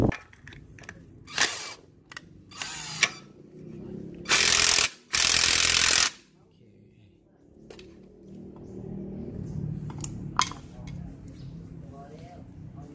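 Short bursts of ratcheting tool noise while tightening a Yamaha Spark 135 motorcycle clutch basket, two louder sustained rattling grinds in the middle, with scattered metallic clicks and low background rumble.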